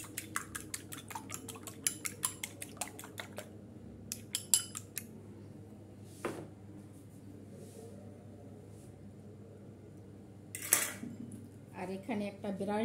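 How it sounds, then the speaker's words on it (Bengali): An egg being beaten by hand in a bowl for home-made porda biryani, a quick run of sharp clinking taps in steady rhythm, close and moderately loud, followed by sparser knocks and faint kitchen background. "এখানে একটা ডিম ফেটিয়ে নিচ্ছি আমি।"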